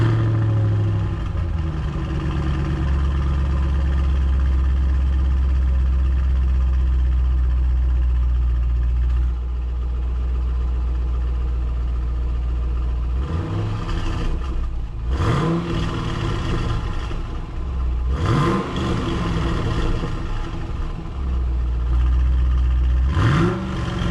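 Up close, a Chevrolet SS V8 with factory exhaust, set to get long-tube ARH headers, idles with a deep, loud rumble, then revs in three or four sharp bursts that fall back to idle.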